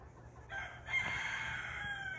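Barred Rock and Cuckoo Marans chickens in a pen crow and cluck at a faint, steady distance, with no voices.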